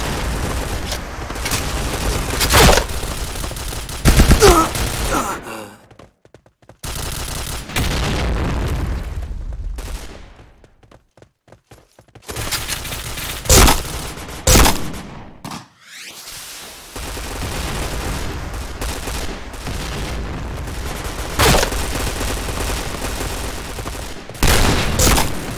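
Loud gunshots crack out in clusters of sharp, booming bursts, some in rapid fusillades, separated by brief quiet gaps, with no voices.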